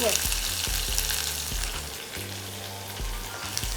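Onion pieces frying in a pan give a close, steady sizzle with soft, regular low thumps running beneath it, and no one speaks.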